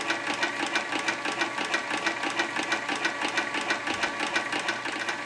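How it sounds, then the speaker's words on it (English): An Artisan Toro 3200 sewing machine winds thread onto a bobbin with a steady, fast, loud mechanical whir and rapid regular ticking throughout. "You want to get a nice even wind on the bobbin."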